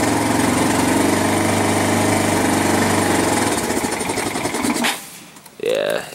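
A 1999 Kawasaki Bayou 220 ATV engine runs close and loud while warming up and speeding up slightly, its carburetor due for cleaning. A rattly, steady drone fades and cuts out near the end, then a short burst of sound follows.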